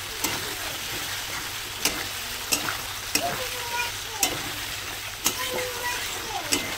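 Potatoes and pointed gourd stirred through hot oil and frying spices in a pan, a steady crackling sizzle broken by sharp spatula scrapes and knocks every second or so.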